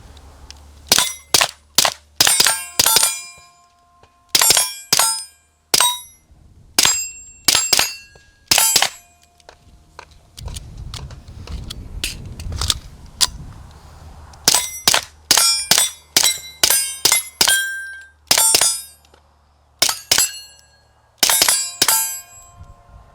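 A Flux Raider backpack gun fires at metal plates outdoors: rapid bursts of sharp cracks, each shot followed by a ringing metallic clang, with a short gap of low rumble midway.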